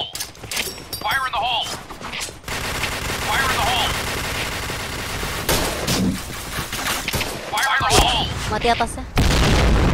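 Rapid gunfire and heavy booms in a shooter video game, with loud bursts that come and go over several seconds while players talk over the action and a final deep blast lands at the end.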